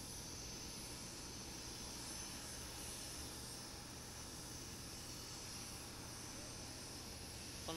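A small towing tractor pulls an airplane by its nose wheel at Itami Airport (Osaka International), giving a steady, loud engine drone with a broad roar that holds evenly throughout.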